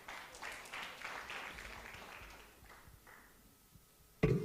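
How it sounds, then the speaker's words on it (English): Applause from the audience at a media viability conference session, a soft spatter of clapping that fades out over several seconds, ending in a sudden louder thump. "A big round of applause."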